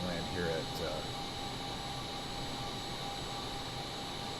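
A small tailless plane in Microsoft Flight Simulator 2024 gives a steady, droning engine hum with a high whine above it, constant throughout, with faint speech briefly near the start.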